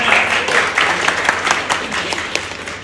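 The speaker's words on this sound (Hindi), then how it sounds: "दूसरी टीम के लिए तालियां बजा रही है।" A girl clapping for the opposing team at a game, a string of quick hand claps mixed with other scattered clapping, close and fairly loud, lasting a few seconds.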